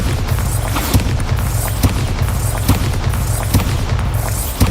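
Bombarda explosion spell in Hogwarts Legacy bursting repeatedly, a loud dense rumble of booms and blasts with sharp cracks recurring throughout.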